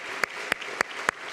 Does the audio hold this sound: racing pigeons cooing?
no